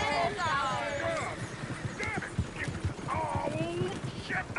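Horses in a video game clip-clop in a quick, uneven rhythm of hoof knocks and let out several whinnies and neighs, moderately close, with people talking over them.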